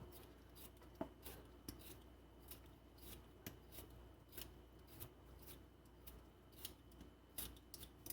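A potato with its ends cut off is peeled by hand, giving a run of quiet, repeated scraping strokes in an uneven rhythm, close up and fairly faint, with no talking.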